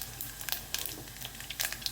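Tempering seeds crackle and pop in hot oil with fried peanuts, giving scattered sharp ticks over a soft, steady sizzle. Close and fairly quiet, with no talking.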